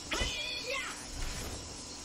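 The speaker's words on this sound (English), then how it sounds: "Cat on keyboard!" A cat gives a short, rising meow, then a fainter second cry, with a person's voice nearby.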